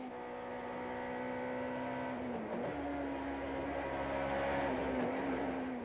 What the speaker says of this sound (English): Action in round 14 of the Stanek touring cars, with Sean van der Linde unperturbed